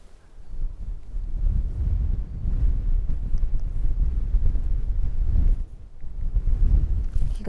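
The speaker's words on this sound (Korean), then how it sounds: "바람 많이 불어." Strong wind gusting across an open golf course, a steady low roar buffeting the microphone for several seconds with a brief dip near the end.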